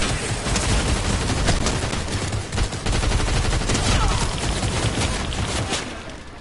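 Continuous loud gunfire in the battle royale game Fortnite, a thick stream of rapid shots and blasts running unbroken and close, with no talking over it.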